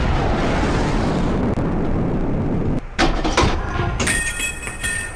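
A tank shell falling short and slamming into a ridge in front of a target tank in World of Tanks: a sustained loud rumbling roar of battle noise, broken by a sharp heavy impact near the middle and a clanging crack after it.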